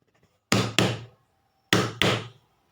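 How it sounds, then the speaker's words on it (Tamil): Knocking on a door: two quick pairs of loud wooden raps separated by a pause of about a second, close by with no talking. "அதுக்குள்ளே கதவு தட்டுற சத்தம் கேட்குது"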